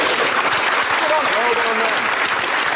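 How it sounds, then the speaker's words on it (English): Studio audience applauding, a dense burst of clapping that fills the room, with a voice speaking over it. "So a round of applause for Skoda."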